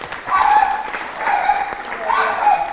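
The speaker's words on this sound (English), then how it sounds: "big applause from me." Audience applause at the Nordic Folkecenter 40th anniversary conference, a continuous wash of clapping in a hall while a voice speaks over it.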